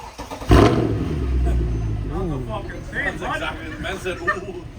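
A Mercedes C63 AMG engine starts with a sharp burst and revs through a loud, raspy straight-pipe exhaust, the pitch rising and falling while people talk nearby.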